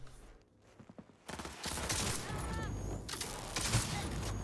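Shotgun blasts and chaotic gunfire in a Cyberpunk video game, loud and dense bursts over busy in-game noise and mechanical clatter after a quiet opening.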